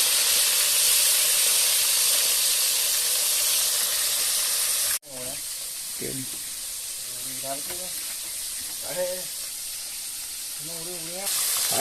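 Steady loud hiss of river fish sizzling in hot oil, with a sharp break partway through, then continued frying with voices talking over it.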